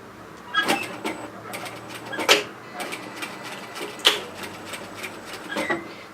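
A domestic sewing machine stitching a zip onto a hoodie, giving short separate bursts of mechanical whirring and clicking with brief pauses between them, fairly quiet and heard without speech.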